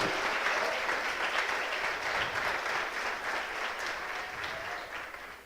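A church congregation applauds with dense, steady clapping that fills the whole stretch and fades slightly toward the end, with no voices standing out.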